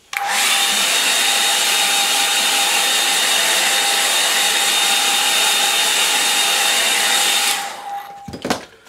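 Hair dryer blowing over a watercolour snow scene, a loud steady whine running for about seven seconds before it cuts off, followed by brief handling clatter.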